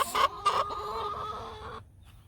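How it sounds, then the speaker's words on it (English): Two short bursts of hen clucking up close, followed by a steady murmur of chicken sounds that fades out near the end. "Good morning, chickens."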